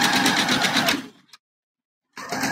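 Sewing machine stitching a front seam of a handmade bra, running in a fast steady burst for about a second, falling silent, then starting up again near the end.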